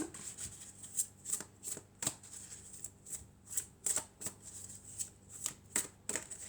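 Oracle cards of angels and crystals are shuffled and drawn close to the microphone, giving soft, rhythmic slaps and riffles that repeat steadily for several seconds at low volume.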